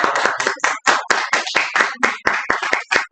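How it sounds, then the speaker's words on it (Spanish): An audience applauds at a feminist movements workshop held for International Women's Day, a few people clapping in a brisk, slightly irregular stream of sharp close claps with brief gaps and no talk. "les pido un fuerte aplauso para las compañeras que están presentes"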